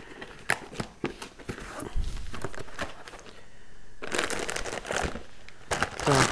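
Crinkling and rustling of plastic packaging up close while unboxing a Mirka OS383CV sander kit with a mask and filters, bursts of crackly handling noise with brief pauses, fairly loud and uneven.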